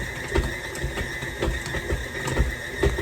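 A stand mixer kneads white bread dough at a raised speed, giving a steady mechanical whir with a faint rhythmic knocking every half second or so, close and continuous with no talking.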